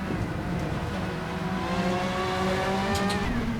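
A race car engine in the video game Assetto Corsa whines and climbs through revs, with rising harmonic pitch and a brief tire squeal near the end, no talking.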